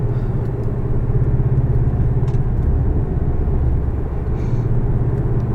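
A 2017 Porsche 718 Boxster S with a manual gearbox cruises along, its engine a steady, close low drone and rumble that holds at an even level throughout.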